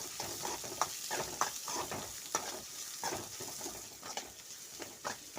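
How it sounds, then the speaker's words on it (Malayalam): Onions frying in a pan for Kerala-style beef peralan: a quiet, steady sizzle with frequent soft stirring scrapes and light taps of a utensil. No talking. "സവോള ഇട്ട് കൊടുക്കാം സവോള ഒന്ന് ചെറുതായിട്ട് വാടി വന്നിട്ട്"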